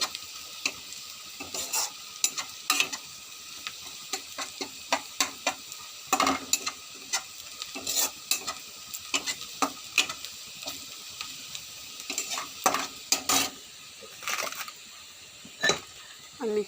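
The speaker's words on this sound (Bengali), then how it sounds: "পেঁয়াজটা লাল লাল করে ভাজলে কিন্তু ভালো লাগে" Onions fried to a deep brown in a pan and stirred, with frequent uneven spatula scrapes and knocks against the metal over a soft, continuous sizzle, close up.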